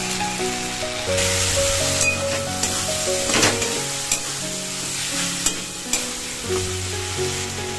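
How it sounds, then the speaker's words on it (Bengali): Onion and tomato frying in a pan with turmeric, salt and spices for a fish curry, a loud continuous sizzle broken by repeated scraping strokes of a spatula, with no talk. "আর এদিকে পেঁয়াজ আর টমেটো ভাজতে দিয়ে দিয়েছি, মাছের ঝাল হবে বলে।"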